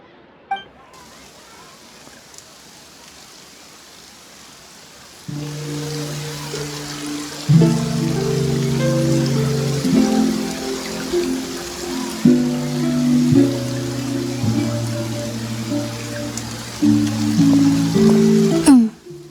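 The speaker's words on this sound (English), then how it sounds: "Looks like rain." Steady rain falls in the video game Genshin Impact, a broad hiss that starts soft and thickens after a few seconds, running under a sustained music-like tonal bed that shifts in steps throughout.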